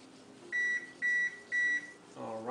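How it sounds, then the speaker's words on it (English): A kitchen oven beeps while preheating: three steady electronic tones in an even rhythm, fairly faint over low room noise, followed by a short, different chime at the end. "that's the sound of the oven being preheated."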